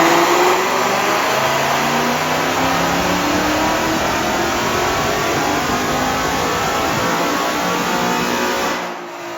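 A supercharged 2024 Ford Mustang, boosted on pump gas, roars at sustained high revs on a chassis dyno, loud and close with rising engine harmonics before the pull drops off at the very end.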